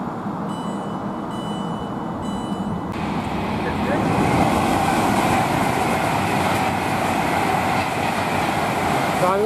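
A passenger train on the Crewe to London Euston line rumbles through Milton Keynes Central railway station, a steady heavy roar building louder midway with rail clatter and a brief tonal whine early on.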